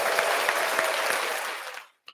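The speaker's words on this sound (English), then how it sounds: "Trina, round of applause, Trina." A small audience gives a round of applause for Trina, a lively burst of clapping that fades out after about two seconds, followed by a brief faint sound.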